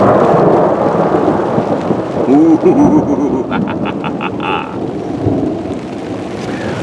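Thunder rumbles low and broad through a storm under steady rain, with a brief exclamation from a person near the middle.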